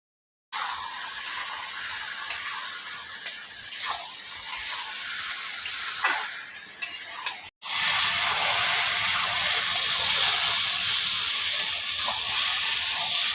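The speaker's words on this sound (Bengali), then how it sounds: "এবার আমি ঘেটে দেবো" Fried shrimp and ash gourd being stirred in a hot pan: a continuous sizzle with scraping and clinks of a spatula for several seconds, a brief break, then a louder, denser frying hiss that carries on steadily.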